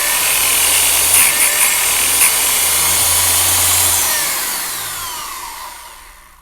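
Princes Auto / Harbor Freight electric chainsaw sharpener grinding a chain: a close, harsh, high-pitched grinding whine with a few brief scrapes, fading out as the motor winds down at the end.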